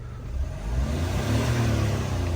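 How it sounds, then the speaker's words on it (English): A Kia diesel car with a P2454 diesel particulate filter pressure sensor fault idles steadily, giving a continuous, even engine hum and whir at moderate level, with no talk over it. "Everything's turned off, reset, turn the engine on, and there you are, guys."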